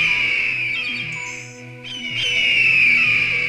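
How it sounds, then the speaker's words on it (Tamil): Two cartoon eagles screech loudly in sustained, piercing cries that break off briefly in the middle and then resume at full strength, with a low musical tone underneath and no speech. "அந்த 2 கழுகுகளும் ரொம்ப சத்தமா கத்திக்கிட்டு இருந்துச்சு."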